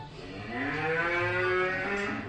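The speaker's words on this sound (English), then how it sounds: "No, that's a cow." A cow lets out a single drawn-out moo, close and clear, rising and then settling over about two seconds with nothing else around it.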